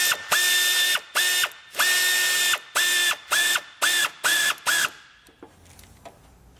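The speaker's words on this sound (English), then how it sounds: "I always like to tighten every bolt or every clamp as I put it on" A ratchet tightens a hose clamp on an engine cooling system, giving about eight loud, close bursts of rapid clicking with brief pauses between them, then stopping and leaving faint quiet.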